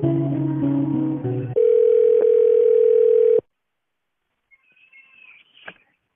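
During a call transfer, a telephone line plays a short multi-tone sequence and then a loud, steady single tone for about two seconds that cuts off into silence. A faint, brief cat-like meow follows.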